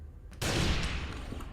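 Gunfire from the video game Aliens vs Predator, a sudden loud burst that starts abruptly and then fades out over about a second, with no voices over it.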